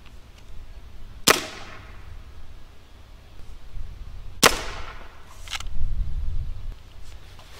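A Hatsan Blitz full-auto .30 caliber air rifle fires two sharp, separate cracks into a ballistic gel block, spaced about three seconds apart against a quiet background.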